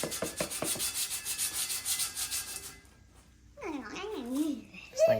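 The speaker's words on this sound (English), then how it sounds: "You got a lot of scrubbing to do." Paint is scrubbed off metal during a Henry J car restoration, a brisk rhythmic rubbing of close strokes for about three seconds, followed by people talking.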